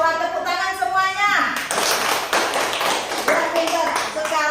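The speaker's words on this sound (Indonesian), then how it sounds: "Tepuk tangan semuanya." Primary schoolchildren in a classroom clap their hands together in a dense, quick patter for a few seconds, following a voice, with children's voices mixed in.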